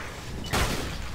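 A single sharp game gunshot bursts out midway through a Malaysian multiplayer shooter match, loud against a steady background hum, with a brief decaying tail.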